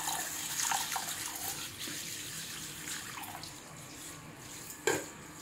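Water runs and splashes in a kitchen as masoor dal lentils are rinsed, a steady soft wash with faint clinks of a vessel and one sharper knock near the end.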